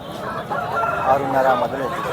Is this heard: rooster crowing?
yes